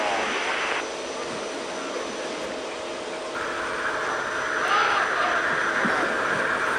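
An aircraft lands on a ship's deck in an animated war film: a steady engine roar that shifts to a brighter whine partway through, holding loud throughout with no talk.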